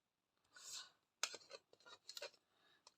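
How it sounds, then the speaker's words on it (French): Scissors snip and trim embellishment material for a craft project, a few quiet, close, crisp cuts and clicks in short bursts with pauses between. "Je vais prendre un ciseau"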